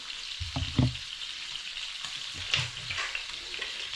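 Onion frying in a hot pan in a home kitchen, a steady close sizzle with a few brief clatters of stirring near the start.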